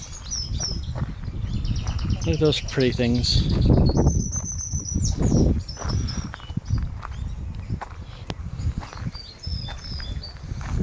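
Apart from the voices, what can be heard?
birds singing in a castle garden aviary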